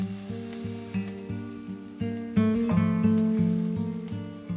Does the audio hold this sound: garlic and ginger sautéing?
yes